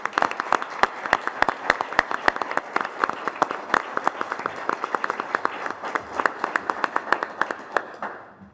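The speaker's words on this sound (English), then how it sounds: "I'd like to give them a round of applause" A room at a board of education meeting claps for school cadets, sparse distinct hand claps in a steady patter lasting several seconds before fading out, moderately near with little talk.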